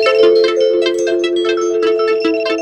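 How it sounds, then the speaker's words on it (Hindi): A Windows 10 alarm clock tone rings loudly and steadily, a repeating chiming melody with no speech. "यहाँ पर अभी अलार्म बज रहा है यहाँ पर विंडोज 10 में"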